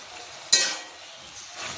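Mustard paste goes into a hot cooking pan with one short, sharp burst of sizzling that quickly fades to a soft, quiet hiss.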